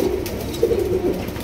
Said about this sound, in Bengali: রাজগোল্লা কবুতর, রেড কালারের গোল্লা কবুতর।